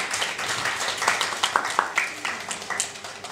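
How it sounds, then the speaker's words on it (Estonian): Audience applause with scattered clapping at the announcement of the Eesti Suve Modell 2023 winner, dense and steady for a few seconds with sharp individual claps standing out. "Aplaus!"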